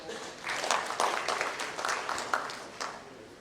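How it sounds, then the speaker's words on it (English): Audience applause at the CIO Conclave & Awards 2022, welcoming a presenter onto the stage; a fairly quiet, rippling round of clapping that swells briefly, stays dense, then thins out toward the end. "With a huge round of applause, please welcome Mr. Narendra Sonwane on the stage."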